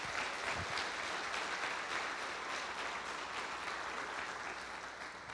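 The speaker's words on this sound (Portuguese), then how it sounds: "Você pode aplaudir a Jesus por isso?" A church congregation applauds during a sermon, dense and steady clapping heard from some distance that holds evenly for about five seconds, fading slightly at the end.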